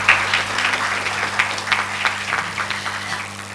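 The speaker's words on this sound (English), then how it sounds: "Please give for all the paper presenters a very big round of applause." Audience applause for paper presenters at a national student physics symposium valedictory ceremony, a moderate wash of scattered clapping with a steady low hum underneath, continuing evenly throughout.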